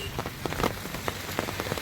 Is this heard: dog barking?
no